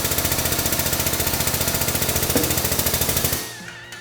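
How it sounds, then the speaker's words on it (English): A press pushing a double-sealed bearing into a GDP portal housing: a rapid, loud mechanical pulsing like a pneumatic hammer that runs steadily, then winds down and stops near the end. "we're just going to take a socket that's going to sit on this inner race and we're just going to press it right in there"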